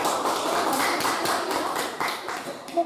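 A classroom audience claps hands together, a dense patter of many palms with rhythmic pulses, fairly close and sustained, tapering slightly near the end.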